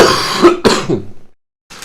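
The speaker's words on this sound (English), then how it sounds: "I'm so done coughing" A person coughs and clears their throat in a few harsh close bursts, followed by a brief silence.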